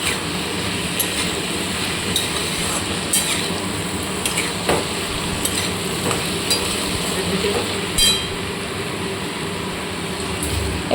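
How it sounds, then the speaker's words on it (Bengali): Fried prawns tossed and stirred into bottle gourd and potato cooking in a pan, giving a steady close sizzle with scraping stir strokes and occasional clinks throughout. "এবার ভেজে রাখা চিংড়ি মাছটার মধ্যে দিয়ে দেবো।"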